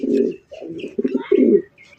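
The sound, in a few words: pigeon cooing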